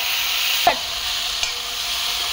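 Spice mixture sautéing in oil in a home kitchen, a steady close sizzle with a couple of sharp utensil taps against the pan while stirring, no voices.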